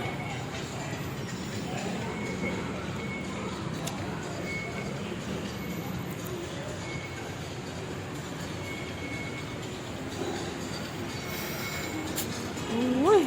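A skytrain rumbles steadily through a station, a continuous low rolling roar with faint wheel noise, and a voice briefly heard near the end.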